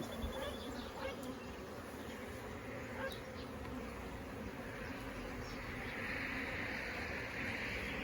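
Honeybees buzz around an open top bar hive under inspection, a steady, soft drone of many insects with a few individual bees passing closer, no voices present.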